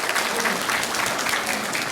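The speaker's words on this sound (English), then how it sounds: "Please give another round of applause to Amanda." Applause from the audience at a Veterans Day service carries on as a dense, continuous rush of many hands clapping at an even level throughout.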